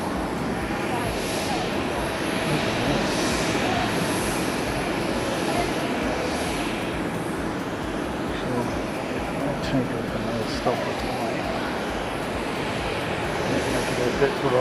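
A plane makes its takeoff run on the C runway at Haneda Airport, a steady, broad engine roar that holds at a moderate distance without letup.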